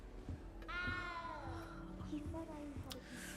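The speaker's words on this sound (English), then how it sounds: "That cat's really making noise." A cat meows in the video game Hogwarts Legacy, one drawn-out, falling meow followed by a softer, shorter mew under low ambient game sound and faint speech.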